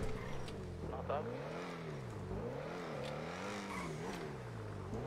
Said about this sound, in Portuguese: Muito carro roletando aqui, velho